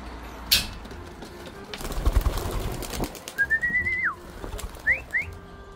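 Racing pigeons released from their loft in Christchurch in winter, giving rapid wing flutters and clatter with soft whistling and sliding calls over a quiet outdoor background, close by and intermittent.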